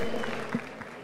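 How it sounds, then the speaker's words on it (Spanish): Brief burst of audience clapping at a hackathon final pitch session, a short, fairly loud patter of many hands that ends almost as soon as it starts. "Gracias, un aplauso."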